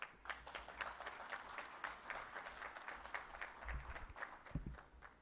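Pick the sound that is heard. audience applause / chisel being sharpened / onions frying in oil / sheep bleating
audience applause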